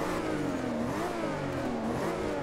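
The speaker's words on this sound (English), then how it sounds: "the engine sounds even better because you can hear that turbo" A 1998 Toyota Supra engine in Forza Horizon 2 revs steadily, a close, continuous mid-pitched drone that rises slightly and dips, with a faint turbo whirring layered on top.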